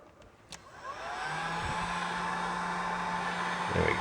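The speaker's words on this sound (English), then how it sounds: "you can actually put this heat gun on low and gently heat it over top of the gun" A heat gun on its low setting blows a steady whooshing hum over a speaker's mylar diaphragm, starting after a few faint clicks and running on close and even.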